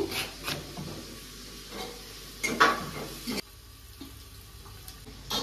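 Onion with a little salt frying in a pan for chicken biryani gives a soft sizzle, with several scraping stirs and clinks of a spoon, the sizzle quieter near the end; no voices.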